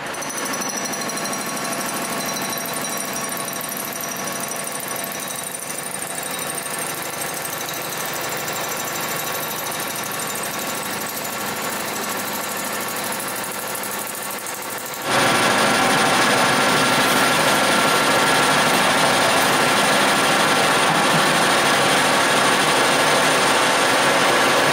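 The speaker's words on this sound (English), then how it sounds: "So I'll turn that in the lathe" A metal lathe turns a metal block for a tool post on a tool and cutter grinder, giving a steady machine drone that jumps abruptly louder and harsher partway through, then holds constant.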